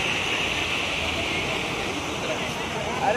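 Forceful river water rushing below a bridge, a steady, broad roar like a waterfall filling the whole stretch at constant loudness, with a voice faintly present beneath.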